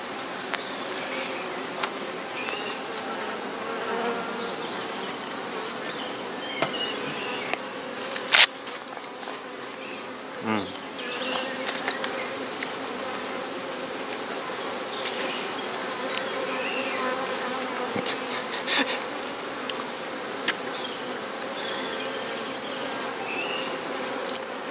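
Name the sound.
honey bees buzzing during hive super harvest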